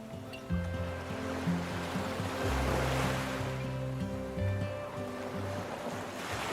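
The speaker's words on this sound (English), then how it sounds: "the wind accelerates across open sand and waves strike with unsentimental force" Atlantic surf breaks on the open sandy shore of Piedra Playa, Fuerteventura, under strong wind. A continuous broad roar of waves swells and fades, with gusty wind noise and a soft musical backing.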